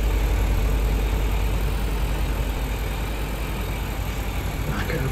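A Freightliner heavy rescue truck with a Detroit engine idles in Farming Simulator 19, a steady, loud low rumble holding evenly throughout with no break.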